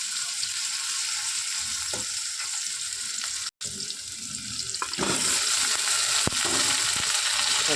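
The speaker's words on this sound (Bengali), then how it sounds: "পেঁয়াজ রসুনটা তেলে দিয়ে দিলাম গোটা দিয়ে একটু নাড়াচাড়া দেবো এবার আমি কচুরমুখি আর আলুটা একসাথে দিয়ে দেবো" Onion and garlic, then taro and potato, fry in hot oil in a pan, a hissing, water-like sizzle that briefly cuts out and then comes back louder as the vegetables go in, with stirring scrapes and no talk.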